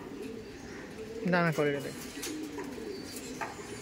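Giribaj pigeons coo at a busy pigeon market, a clear rolling coo rising briefly above a crowd murmur while someone speaks nearby.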